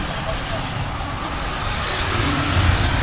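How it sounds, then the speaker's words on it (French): Early-morning street traffic in Phnom Penh, a continuous wash of engines and road noise that swells slightly near the end, with a voice talking over it. "Là, il y a un peu de circulation"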